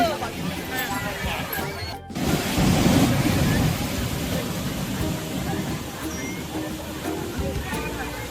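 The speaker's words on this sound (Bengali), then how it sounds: "এই সমুদ্র।" Sea waves roll onto the beach at Puri, a steady broadband wash of surf under nearby people talking and a crowd hubbub.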